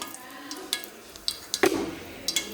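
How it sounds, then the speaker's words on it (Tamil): Mustard seeds and fennel sizzling in hot coconut oil: a low, quiet sizzle dotted with scattered sharp pops and clicks, a few louder bursts clustered in the middle. "இப்போ நம்ம கொஞ்சம் தேங்காய் எண்ணெய் ஊற்றலாம். இனி கொஞ்சம் கடுகு போடலாம், கொஞ்சம் பெருஞ்சீரகம்"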